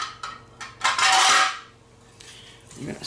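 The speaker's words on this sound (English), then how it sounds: "I'm going to stir this up again." A spoon stirring a salt-and-pepper seasoned dish in a pot, a few clinks and scrapes of metal against the pot with a longer scraping swirl, close and fairly loud, no talking.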